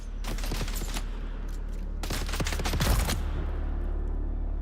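Turrets firing in the video game Dune: Awakening, two rapid bursts of sharp repeated shots separated by a short gap, loud over a steady low hum.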